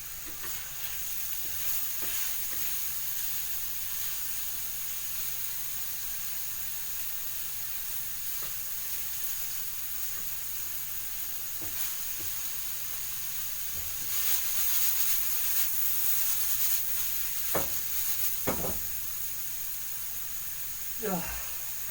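Meat browning in a pan for a perpetual stew gives a steady, close sizzle throughout, with occasional sharper crackles and stirring bursts swelling the sound partway through; no talking.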